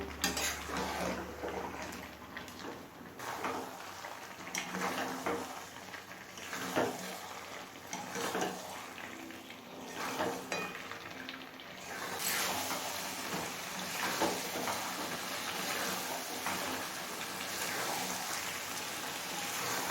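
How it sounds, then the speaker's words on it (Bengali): Chicken cooks in a pan over a medium flame for chicken kosha, with a steady broad sizzle and frequent scraping, clinking stirs of a metal utensil against the pan, close and continuous throughout. "এবার মিডিয়াম ফ্লেমে চিকেনটা খুব ভালোভাবে কষিয়ে নেব"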